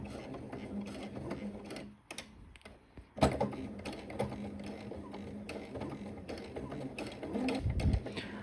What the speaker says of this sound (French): Au fur et à mesure que je couds, je m'assure de bien mettre mon tissu à plat